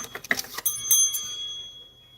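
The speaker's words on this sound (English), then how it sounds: "I'm gonna grab that bell so I don't lose it again." A small bell is picked up with a few handling clicks and rattles, then rings out briefly with a bright metallic tone that fades away in a quiet room.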